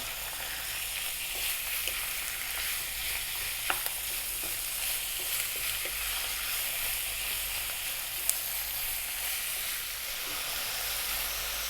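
Onion and meat sizzling in a pan over above-medium heat, a constant loud hiss with occasional scrapes and pops as it is stirred, no talking.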